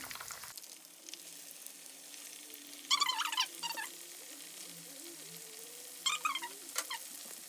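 Flour-coated chicken pieces for homemade KFC fry in hot oil, a soft steady sizzle with two short louder crackling bursts as the pieces are turned.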